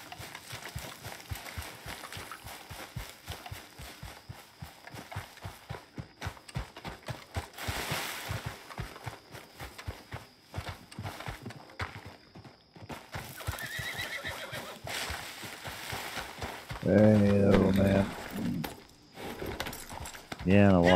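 A horse in the Western video game Red Dead Redemption 2 trots with steady clip-clop hoofbeats through most of the stretch, then whinnies loudly near the end, with a faint voice and game ambience underneath.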